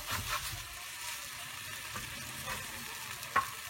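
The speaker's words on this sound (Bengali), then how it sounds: "অনবরত একটু নাড়তে হবে, নইলে এটা লেগে যাওয়ার পসিবিলিটি আছে।" Food fries quietly in a pan under continuous stirring, a soft steady sizzle with faint rhythmic scraping and one sharper clink near the end.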